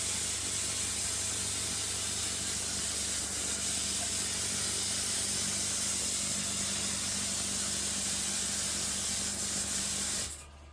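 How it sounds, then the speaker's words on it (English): A pond drum filter running its self-rinse cycle gives a constant loud hiss of spraying water that holds steady for about ten seconds, then stops abruptly at the end. "there's the drum that decides to rinse itself when you're in the middle of a video"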